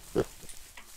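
A single short pig grunt from a MineClone2 block-building game, close and fairly loud, standing alone over a faint, steady background hum.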